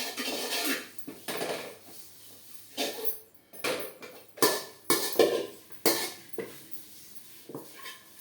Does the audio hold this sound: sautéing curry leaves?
yes